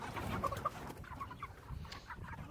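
Chickens in a hoop-structure poultry pen cluck close by, a handful of short, sharp clucks in the first second giving way to scattered softer calls over low, rustling background noise.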